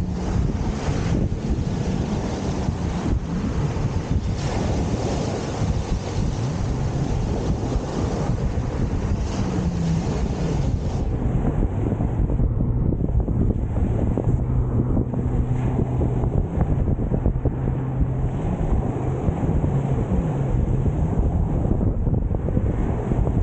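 Strong wind buffets the microphone at the Southampton Water shore by Calshot Castle as the tide comes in, a loud continuous rumble with waves washing underneath, the gusts easing partway through.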